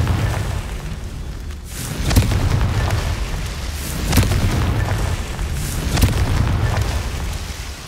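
In the Hogwarts Legacy video game, Confringo spell explosions go off as three heavy booms spaced about two seconds apart over a continuous loud, rumbling background.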